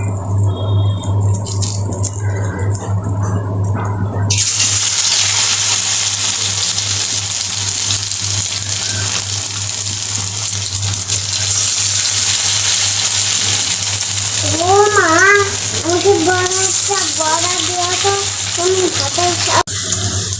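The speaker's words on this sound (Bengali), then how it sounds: "তো আমি ঠিক একইভাবে বাকি বড়াগুলিও ভেজে নেব।" Noodle pakoras deep-fry in hot oil, giving a steady, close sizzling hiss that sets in after a few seconds and continues, with a voice speaking briefly near the end.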